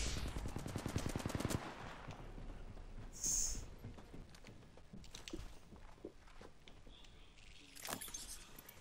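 Video game gunfire: a dense rapid burst of automatic fire up front, then scattered single shots and clatter amid footsteps and action noise.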